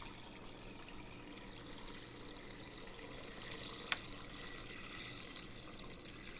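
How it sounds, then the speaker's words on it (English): Filtered water pours steadily over dry elbow noodles in an Instant Pot, a soft, continuous trickling stream with one brief clink partway through, close by and alone. "our filtered water is not going to be enough. I'm going to have to refill it up and top it off"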